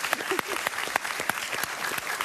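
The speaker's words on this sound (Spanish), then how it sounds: "yo quisiera un aplauso para la sociedad civil venezolana" A studio audience applauds the Venezuelan civil society during a talk-show interview, a short burst of close, steady clapping.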